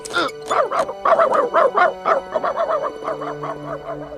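Animated sled dog in Balto whimpering and howling, a run of short rhythmic yelps and whines rising into drawn-out howl-like cries, close and clear with no talking.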